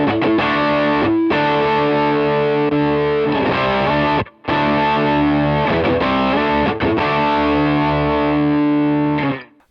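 An electric guitar with its gain turned up drives hard through a Cornerstone NERO fuzz pedal, ringing out thick distorted chords in a couple of long phrases with a brief gap between them and no talking.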